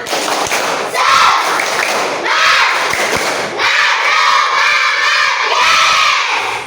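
Schoolchildren in a classroom perform a tepuk semangat clapping chant together, loud rhythmic group claps mixed with shouted voices filling the room, with a few sharp thumps near the start.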